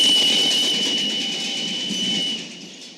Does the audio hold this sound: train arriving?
yes